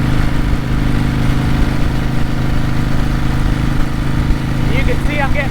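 A vintage Harley-Davidson motorcycle with a 4-speed gearbox cruising on the road at around 65 mph, a steady loud engine drone mixed with wind, with brief bird chirps near the end.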